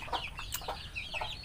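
Chickens in a coop of kampung and Bangkok breed birds cluck and chatter in soft, overlapping calls over steady farmyard background noise.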